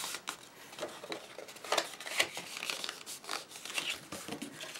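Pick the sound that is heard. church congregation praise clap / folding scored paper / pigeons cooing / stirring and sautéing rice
folding scored paper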